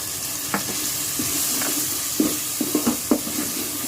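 Bay leaves and garam masala sizzle in hot oil in a pan, a steady close frying hiss punctuated by several soft knocks and scrapes of a stirring spoon.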